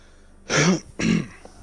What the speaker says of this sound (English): this cough just will not go away